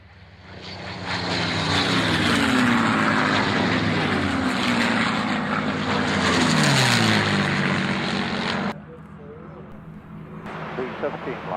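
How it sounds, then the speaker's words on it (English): A four-ship formation of P-51 Mustang propeller fighters makes a loud, sustained pass at an air show, the engine roar swelling and shifting pitch before dropping away sharply, with announcer talk over it. "Mustang 4 ships running in."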